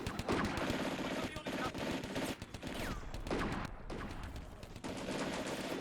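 Machine gun fire rattles in the Combat Mission: Barbarossa to Berlin war game during a battle at Viipuri, with dense overlapping bursts and scattered shots throughout and a voice speaking briefly over the gunfire.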